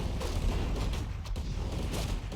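Dense rifle fire from a back line of Warcraft III riflemen during a battle on Twisted Meadows, a continuous crackling volley of overlapping shots under steady, busy battle noise.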